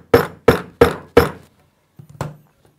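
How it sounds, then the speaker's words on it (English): The rubber end of a hammer tapping a wall unit panel down into its groove during assembly: four evenly spaced, close, dull thunks, a short pause, then a softer double tap. "If necessary, use the rubber part of hammer just to tap it down into position."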